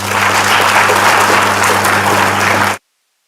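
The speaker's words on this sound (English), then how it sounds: "request all the freshers to give big round of applause to your parents" Freshers in a college hall give their parents a loud, dense round of applause, steady throughout and then cut off abruptly, with a low steady hum beneath.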